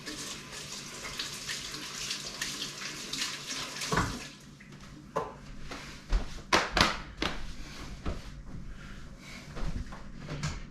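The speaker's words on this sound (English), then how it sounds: "Rinse my hands." Hands rinsed under a running kitchen tap while making pork bratwurst sausages, steady water flow with splashing bursts and a few clunks of handling, moderately quiet.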